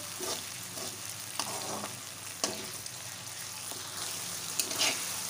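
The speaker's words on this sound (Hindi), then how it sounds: "अब हम इसको थोड़ा सा भून रहे हैं" Garlic-ginger paste with tomato and green chili fries in a pan, giving a soft, steady sizzle broken by occasional stirring scrapes and taps; fairly quiet overall.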